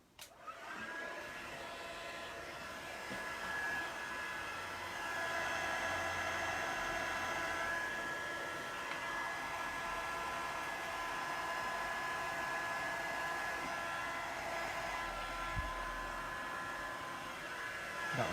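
A heat tool blows steadily to melt embossing powder on a floral card, a continuous close whooshing hiss with a faint high whine, unbroken and alone for the whole stretch.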